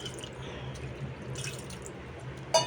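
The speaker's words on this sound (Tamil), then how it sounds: "இதில் கொஞ்சம் தண்ணி ஊற்றிட்டு போட்டுக்கோங்க." Water is poured into a cooking pot of mung beans for a South Indian spinach stew (keerai kootu), a soft, steady trickle and splash, faint and close, with no voices.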